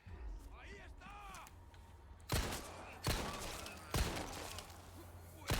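Gunshots from the Resident Evil 4 Remake video game, played on hardcore: after a stretch of speech, four loud, sharp shots ring out at roughly even intervals, each followed by a brief decay.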